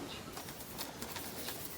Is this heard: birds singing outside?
yes